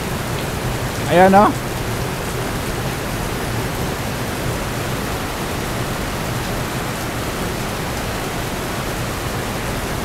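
Heavy rain pours beside a building, a dense steady hiss of water that runs unbroken throughout, with a brief spoken exclamation near the start.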